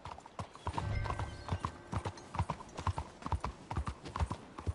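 Horse hooves clip-clop steadily in Red Dead Redemption 2, a brisk, close, uneven rhythm of thuds over ambient game background, with no speech.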